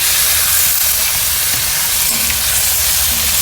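Chicken wings for afritada sizzle and crackle steadily in their own rendered fat in a pan, a loud, close, continuous frying hiss with no talk over it.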